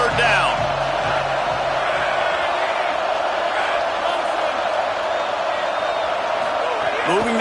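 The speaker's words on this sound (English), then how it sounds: "Decibels rising as the crowd gets behind this defense on third down." A large stadium crowd roars steadily at a football game as the defense lines up on third down, a loud sustained wash of cheering under a commentator's voice.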